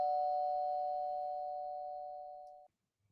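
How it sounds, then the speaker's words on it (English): A single electronic doorbell tone rings out as one sustained, clear chime that slowly fades over about two and a half seconds before cutting off, with no voices over it. "ringing doorbells?"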